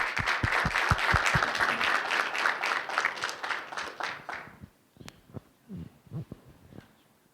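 Applause for a student athlete at a school Student of the Month recognition, a dense room of clapping for about four seconds that thins out into a few scattered, separate claps before fading.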